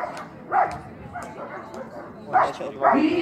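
A trained detention dog barks at a suspect after releasing its bite on command: a few loud, separate barks spaced across a few seconds over low background noise.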